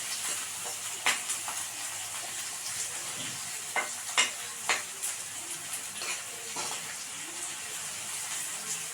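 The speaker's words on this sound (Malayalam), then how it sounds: "ചെറിയ ഉള്ളി ഇടാം. അതൊന്ന് ഇളക്കി യോജിപ്പിക്കണം." Small onions sizzling in a pan for a Kerala dish, a steady fry hiss punctuated by scraping clicks of a spoon stirring, fairly quiet with no talk.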